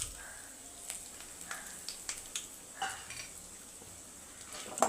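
Onions with dried red chillies being sautéed in a pan: soft sizzling beneath repeated scraping and tapping of a spatula against the metal, fairly quiet and close.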